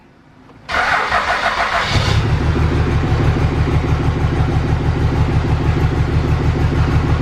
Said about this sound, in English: Truck fired right up.